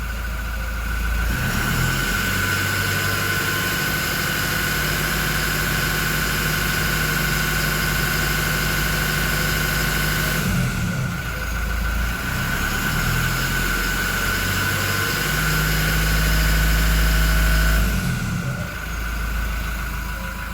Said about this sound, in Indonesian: Kita dengarkan, saya gas sampai 1500 rpm ya.